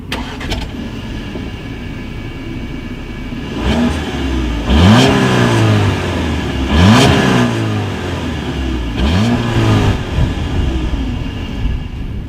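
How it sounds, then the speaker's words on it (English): A 2019 Audi with dual exhaust outlets and chrome tips starts up and revs close by, giving three rising throttle blips that fall back to a steady rumbling idle between them. "As always, here is that exhaust clip."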